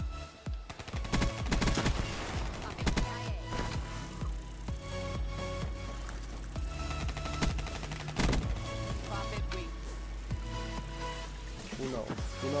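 Rapid video-game gunfire with dense bursts and single shots from pistols, loud and continuous under music and game effects, with a voice talking over parts of it.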